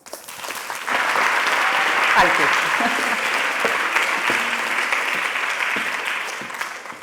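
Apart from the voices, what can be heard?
audience applause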